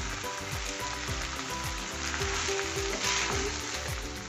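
Rice sizzles and fries steadily in a pan over a high flame, with regular scraping and tossing strokes repeating throughout at close range and no talk.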